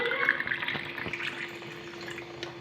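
Juice trickling and splashing as it is poured into a glass, soft and close, a thin continuous liquid stream with faint drips and no talking.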